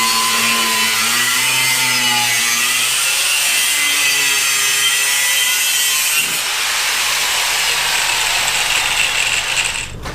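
A saw cuts straight through an aluminum marine outdrive piece, a loud, close, continuous rasping whine that shifts in pitch partway through as the blade works deeper.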